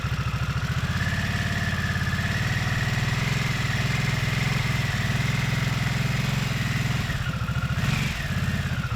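A 2022 Harley-Davidson Nightster motorcycle engine runs at a steady, smooth idle close by, a throbbing low pulse with a brief blip of revs near the end.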